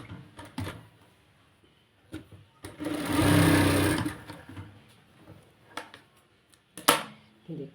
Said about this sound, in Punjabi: ਇਦਾਂ ਕਰਕੇ ਆਪਾਂ ਇਹਦੀ ਸਲਾਈ ਲਾ ਲੈਣੀ ਹੈ